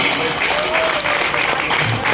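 Dense, continuous audience applause at a Hindi poetry recital in Haridwar, loud and sustained clapping from a crowd throughout.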